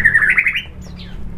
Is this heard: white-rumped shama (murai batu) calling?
yes